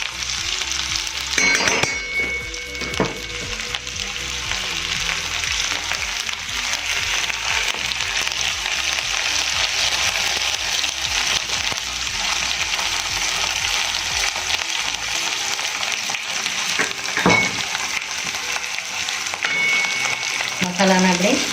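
Spices sizzling in hot oil for a home-style pahadi daal, a loud steady frying hiss close by, with occasional spoon clinks and scrapes as the masala is stirred.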